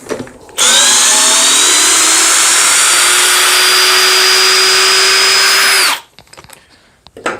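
A Parkside PPBSA 20 Li A1 cordless drill driver unscrews a large screw, its motor whining loudly and steadily for about five seconds, slowly winding down in pitch before stopping abruptly.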